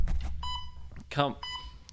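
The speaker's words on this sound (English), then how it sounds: "wait for the beeping to stop" Steady electronic beeps with pure tones sound repeatedly, interrupted by short bursts of a voice speaking over them.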